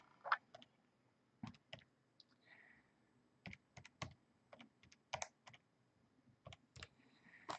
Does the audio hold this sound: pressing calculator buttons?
yes